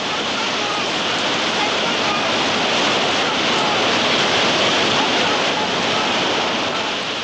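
Thick, dirty brown Icelandic river rapids rush and roar loudly over volcanic rocks, a dense, unbroken wash of water noise heard close from kayaks, steady and overwhelming throughout.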